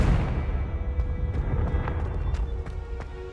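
Confringo blasting spell exploding in Hogwarts Legacy, a loud, continuous roaring rumble with sharp crackling bursts scattered through it, no talking.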